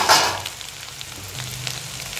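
Chopped parotta pieces tossed into a pan with scrambled egg sizzle and fry, a soft burst of crackle at the start settling into a steady low hiss with faint stirring, no talking.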